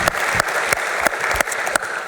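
An audience claps at the EVE Fanfest gaming convention during the Amarr Championships finals, a steady burst of applause with sharp individual claps that stand out above the dense crowd noise.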